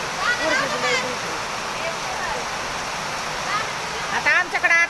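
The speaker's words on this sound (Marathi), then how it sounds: "लय पाऊस पडायला लागला. आता पाणी पाणी झालं." Heavy rain pours down in a steady, loud broadband hiss that lasts throughout, with voices talking over it and a few brief splashy bursts near the end.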